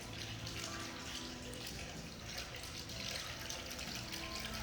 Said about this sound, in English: they have this wonderful water feature we talked about, this indoor-outdoor water feature